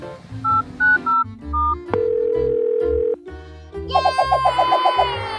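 A phone places a video call: a short run of dialing tones, then a long steady tone and a bright chiming melody, loud and close, with no talking.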